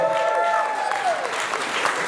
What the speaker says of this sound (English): let's clap it up. Let's keep it going. Let's keep it going for that speech